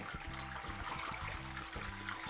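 Collected water from a Meaco Arete One 6-litre small dehumidifier tank, about 1.5 litres after a night on night mode, pours out in a steady, continuous trickling splash close by, with no talking.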